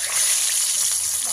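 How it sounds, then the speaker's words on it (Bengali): A fish head drops into hot oil in a wok that has a small hole in its base, giving a loud, continuous hiss of frying that fills the short moment closely, with a voice speaking over it. "এই দেখো এখন গরম তেলের মধ্যে দিয়ে দেবো মাথাটা।"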